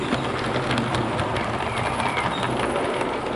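A Hornby Terrier model locomotive in OO gauge pulls three model coaches along the track, giving a steady, close, continuous rolling rumble with faint rail clatter and no talking.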